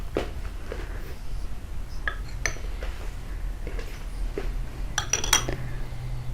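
A spoon clinks and scrapes against a bowl while a thick face pack paste made with juice is stirred, giving a scattered run of light metallic taps and clinks over a soft background hiss.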